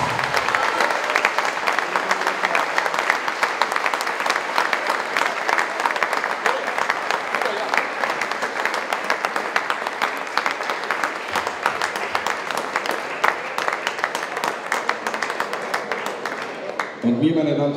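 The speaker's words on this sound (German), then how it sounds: "meine Damen und Herren, einen kräftigen Applaus für diesen tollen Menschen" An audience at a football nostalgia evening gives sustained, even applause, a dense crackle of many hands holding steady for over fifteen seconds before a voice comes in at the very end.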